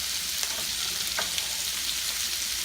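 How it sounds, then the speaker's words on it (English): Tomatoes sautéing in a pan, unsalted, a steady dense frying hiss with a few faint crackles and a light stir, close and continuous without talk. "And start sauteing my vegetables with this pan"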